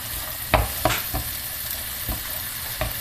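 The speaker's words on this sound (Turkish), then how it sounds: "güzelce karıştırıyoruz" A spoon stirs a green lentil filling for manti in a pan over a soft, steady sizzle, with a handful of distinct scraping strokes spaced irregularly and heard up close.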